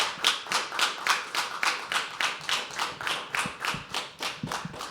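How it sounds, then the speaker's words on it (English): An audience at a live poetry open mic at The Habitat claps together in a steady, rhythmic beat, about three claps per second, close and even for several seconds. "Can we have another round of applause for him?"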